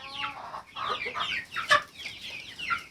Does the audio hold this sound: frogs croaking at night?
no